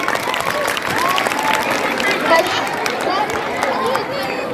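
Audience applause at a school annual function at Maulana Azad School, a steady wash of clapping from a crowd that holds evenly throughout, with some crowd noise mixed in.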